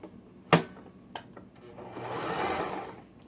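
A sewing machine stitching a seam on a fabric hat: a sharp thump and a couple of clicks, then a rising, steady mechanical whir of the motor running close by.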